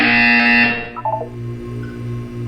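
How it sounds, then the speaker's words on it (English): A loud electronic buzzer in Portal 2 blares for under a second, followed by a short blip of tones and a low pulsing hum. "You will hear a buzzer."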